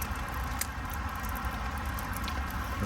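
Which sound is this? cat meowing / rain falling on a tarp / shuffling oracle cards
rain falling on a tarp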